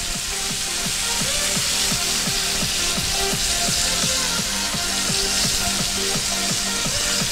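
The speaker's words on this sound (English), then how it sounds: "Oh, that sizzle. That sizzle sounds so good though." Continuous loud sizzling and frying from a pan during home cooking of mushroom risotto and pork chop, a dense hissing bed with regular rhythmic scraping or stirring strokes running throughout, no voices.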